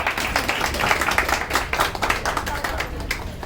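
An audience at a Marathi music program clapping together, a dense run of hand claps with uneven rhythm, fairly close and steady, with a faint voice underneath.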